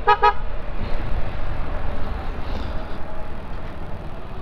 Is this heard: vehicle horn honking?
yes